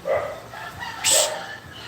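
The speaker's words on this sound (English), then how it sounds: "Shut up, dog." A dog barks a couple of times nearby, short sharp yaps with a pause between, loud against background noise.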